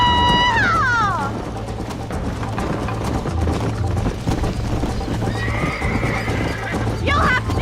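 A horse in the video game Red Dead Redemption gallops with a constant rhythmic clip-clop and gives loud whinnies at the start and end, under music and a voice talking.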